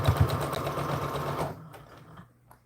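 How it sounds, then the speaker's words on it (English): Sewing machine stitching forward then backward to tie off a seam, a loud close mechanical whir with rapid needle rhythm that stops partway, followed by faint handling clicks. "So we'll go forward, backwards to tie off the seam."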